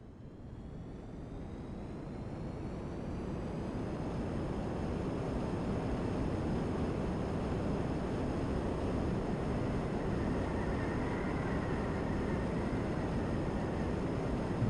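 The Fusion Air launcher zooms past on a flight from a runway, a broad, steady jet-like roar with a faint rising whine that holds throughout.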